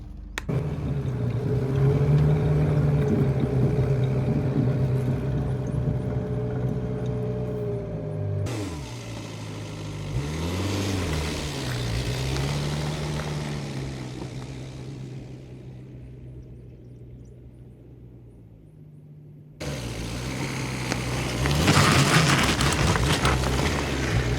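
A Force Gurkha 4x4 with a lift kit climbing off-road terrain, its engine droning and revving steadily up close, easing off mid-way, then pulling hard again.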